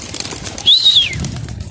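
A pigeon's wings flap briefly as it is released, near a background hiss, with a short high chirp-like sweep in the middle.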